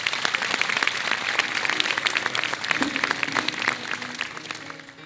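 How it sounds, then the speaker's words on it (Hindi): An audience applauds two guests on a Pakistani music interview show, a dense crackle of many hands clapping close and loud, easing off slightly toward the end. "इन दोनों के लिए बहुत सारी तालियां"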